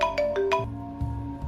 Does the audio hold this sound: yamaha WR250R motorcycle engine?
no